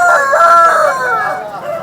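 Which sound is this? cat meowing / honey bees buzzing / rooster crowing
rooster crowing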